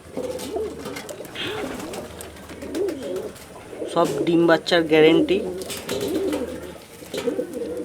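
Caged high-flying pigeons coo in low, throaty bursts around the middle of the clip, with someone talking over them for most of its length.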